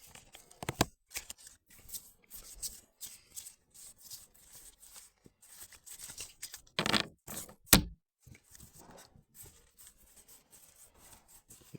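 Oracle cards are shuffled by hand for a reading outdoors on a sunny day. Soft riffling and rubbing runs steadily throughout, with occasional sharper card snaps in the middle, close to the listener and with no talking.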